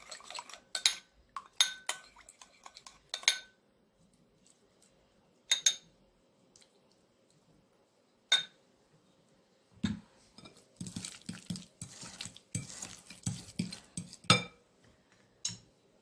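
Salad being tossed with vinaigrette in a large bowl, mixed with avocado, shrimp and grapefruit: scattered clinks and scrapes of utensils against the bowl, then a denser run of wet, rhythmic stirring clatter close by.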